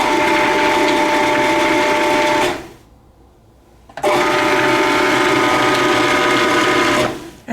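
A food processor pulses pastry dough for sour cream pastries down to fine crumbs. Two loud, sustained motor bursts are split by a short pause, with no talking.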